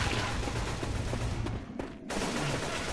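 Rapid gunfire in the zombie shooter Left 4 Dead 2, a dense continuous clatter of shots that cuts out briefly before resuming, with no talking.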